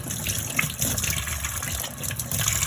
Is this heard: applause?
no